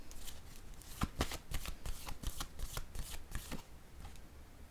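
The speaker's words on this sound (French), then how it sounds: "Je vais piger une carte ici." Tarot cards shuffled by hand during a reading, a run of quick, crisp riffling bursts in an uneven rhythm, close and fairly soft with no talking.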